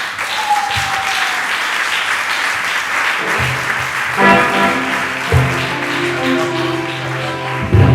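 A church congregation applauds in praise of the Lord during a worship service, with dense, sustained clapping throughout, swelling and shifting in the second half as low crowd voices and music-like tones join beneath the clapping.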